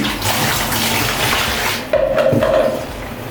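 Water poured from a scoop streams steadily and loudly into a basin while rinsing a cat, with a brief clatter and a change in the splashing partway through.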